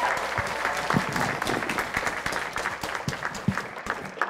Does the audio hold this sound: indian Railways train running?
no